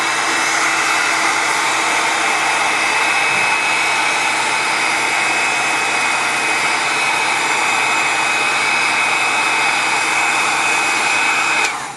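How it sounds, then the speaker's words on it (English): Loud, continuous roar of a heat gun blowing hot air onto shoe leather during handmade shoemaking in Italy, close and steady for about twelve seconds before cutting off abruptly at the end, no voices. "So again, another application of the heat gun."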